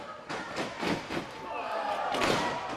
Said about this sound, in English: listen to this crowd chant Lucha Kings, Lucha Kings